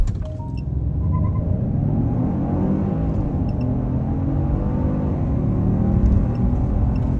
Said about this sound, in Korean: 이 차량이 가속하는 느낌이 상당히 가볍고 경쾌하게 나간다고 느낄 수가 있는 것이죠.